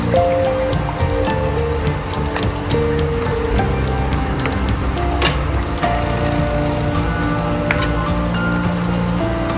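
Liquid sloshing and squishing as tamarind pulp and water are mixed in a pot for sambar, with soft scraping and drips, steady and close throughout.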